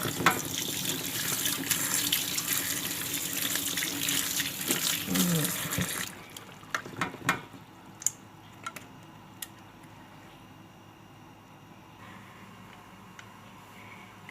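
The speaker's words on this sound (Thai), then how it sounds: "ล้างล้างน้ำเปล่า ออกอีกรอบหนึ่งนะคะ" Tap water runs hard and steady for several seconds while soaked sticky rice is rinsed in a sink, then cuts off, leaving scattered drips, clinks and light handling noises.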